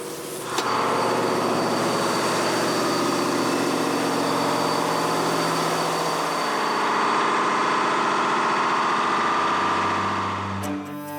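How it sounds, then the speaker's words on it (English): Diesel engine room aboard a Type 212A submarine, the surface-cruising diesel running loud and steady with a dense, continuous roar and low throb from start to finish. "That the deafening noise in the engine room cannot be heard outside is thanks to a unique design adopted for the 212A class."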